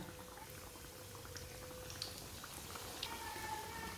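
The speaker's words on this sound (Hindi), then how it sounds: "ऑयल हमारा अच्छी तरह गरम हो चुका है। अब एक एक करके ब्रेड डाल लेंगे।" Bread slices frying in hot oil for an omelette sandwich give a steady, low crackling sizzle with a few faint pops and clicks scattered on top.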